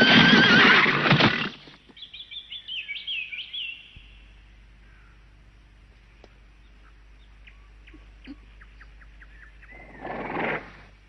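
A horse whinnies loudly and shakily, then faint bird chirps scatter through a quiet stretch before a short burst of noise near the end, in a Tagalog-dubbed animated series.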